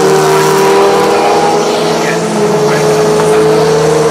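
Race car at Oulton Park holding a loud, steady engine note down the straight, a sustained high-revving drone with no break across the clip and no voices heard.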